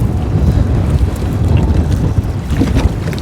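Strong wind buffets a boat out on open water, a loud steady roar of gusts hitting the microphone, broad low rumble with no voices.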